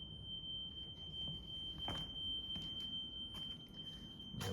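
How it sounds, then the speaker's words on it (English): A smoke alarm sounds inside a flat as a steady, piercing high electronic tone that holds for the whole stretch, over a low room rumble with a few faint knocks and shuffles. "apologies for the noise from that alarm"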